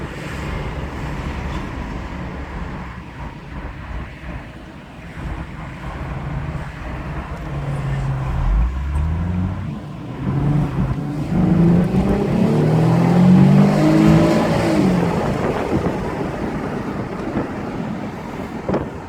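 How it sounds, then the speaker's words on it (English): A 2016 Nissan 370Z Roadster Touring Sport pulls away from a stop, its engine note rising in pitch and loudness through the gears, heard from the cabin under steady wind buffeting, with no talk. "Now we're going to do a quick acceleration just so you see how the car runs and how quickly it accelerates from 0."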